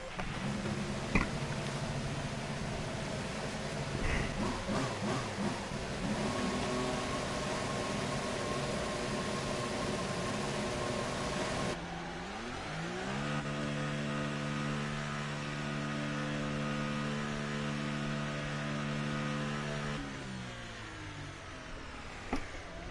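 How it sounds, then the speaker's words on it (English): Formula One car engine from the racing game F1 2018 on the German track, a steady droning hum that shifts around twelve seconds into a stepped, rising harmonic whine of revving gears, continuous and fairly quiet with no speech. "Engine fired."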